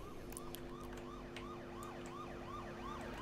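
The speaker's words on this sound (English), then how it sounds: "Oh, police car." A wailing police car siren in the video game H1Z1, sweeping up and down in a steady repeating cycle, faint and distant over an engine hum, with no talk.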